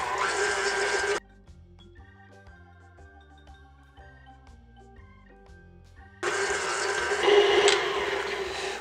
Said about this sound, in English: the paddle attachment on your mixer or with your hand mixer and mix this until it's creamy on medium speed